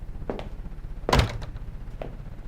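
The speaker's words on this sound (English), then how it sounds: "Open your door." A door opens in a tense drama scene. There is one heavy wooden thunk midway, with a few soft knocks and shuffles around it in a quiet room.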